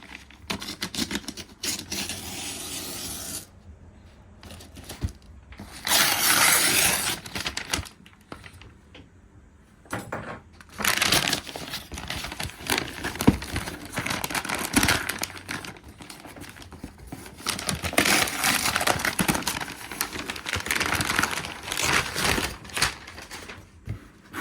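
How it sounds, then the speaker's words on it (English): A Greddy deep-type steering wheel being unboxed, with close crinkling and crumpling of packaging in repeated bursts and rustling handling sounds between them. "Let's unbox a steering wheel."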